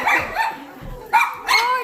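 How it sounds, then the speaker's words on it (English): Outdoors on a weekend stop, a dog gives a couple of short barks close together near the end, over background noise and murmuring voices. "Oh, there's a dog."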